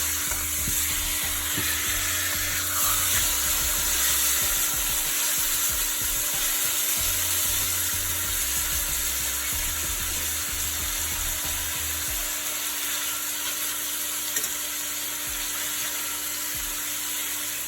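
A steak sizzles in a pan just after being flipped, with a loud, continuous close-up frying hiss and intermittent low scraping and bumping underneath.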